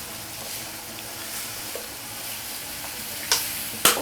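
Beer poured into a hot pan with chicken sauce, tomato paste and hotpot base gives a constant fizzing sizzle, with two sharp splashing bursts near the end.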